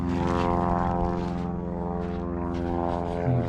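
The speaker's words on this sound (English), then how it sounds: "A couple airplanes up there, cruising around." Propeller airplanes cruising overhead above an auto parts salvage yard in Maricopa, Arizona, giving a steady, droning engine hum that holds moderately loud without a break for the whole stretch.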